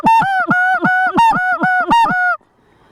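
Snow geese honk in a quick, loud series of about seven rhythmic two-note calls close by during a goose hunt, then stop abruptly, leaving near silence.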